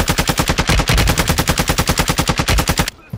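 Rapid automatic gunfire in Call of Duty: Modern Warfare II, a loud, dense burst of evenly spaced shots that runs for nearly three seconds and then cuts off abruptly into near silence.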